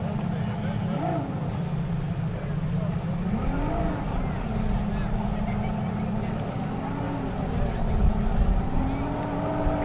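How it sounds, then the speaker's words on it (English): Racing motorboat engines drone steadily over the water, their pitch rising and falling, with voices talking underneath throughout. "the boats are approaching the ramp now"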